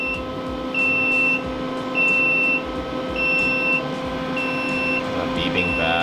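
A new workshop welder that is not feeding properly beeps in short, evenly spaced high tones over a steady machine hum, with faint voices in the background.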